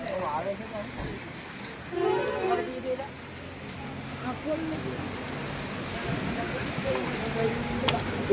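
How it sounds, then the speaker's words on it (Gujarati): Heavy rain pours steadily at the Khodaldham temple in Kagvad, a continuous close hiss of drops on surfaces, with people talking over it now and then. "વરસાદ ફૂલે ફૂલ ચાલુ છે"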